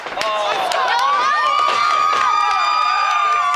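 A wrestling crowd at a live tag-team match cheers and whoops loudly and continuously, with shrill shouts and whistle-like cries rising above the roar.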